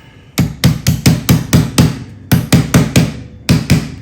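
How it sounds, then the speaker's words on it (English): A rubber-tipped hammer pounds a part into place with about a dozen sharp, close, loud blows in quick bursts, a short pause between each group. "all I did was use a rubber tip hammer and I pounded it right there"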